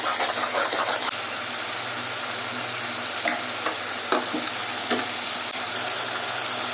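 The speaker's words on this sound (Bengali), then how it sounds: "এখন আমি চুলার আঁচটা একটু বাড়িয়ে ভালো করে মশলাটাকে ভেজে নিব" Spice paste fries in a pan over raised heat for a chicken and potato curry, a loud continuous sizzle with a low steady hum beneath it and occasional scraping knocks as it is stirred.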